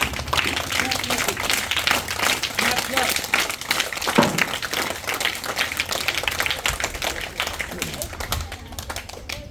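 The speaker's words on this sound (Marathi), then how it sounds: "तीन टाळ्या." Students at a primary school's new-year admission ceremony clap together in a dense, steady, rhythmic pattern that runs throughout, with voices mixed in.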